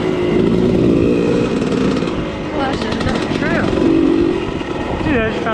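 A KTM 300 TPI dirt bike is ridden along a trail, its engine a loud, steady drone that holds from start to finish while people talk over it.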